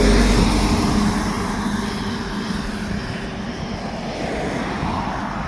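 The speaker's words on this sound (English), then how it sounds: "The one thing with vlogging on a main road is traffic, as you can hear, as you can see and hear." Steady broadband roar of traffic on a main road along the Road to the Isles in the Scottish Highlands, loudest at the start, then a continuous rumble of passing vehicles with no talk.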